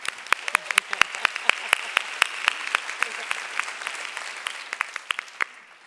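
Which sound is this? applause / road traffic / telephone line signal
applause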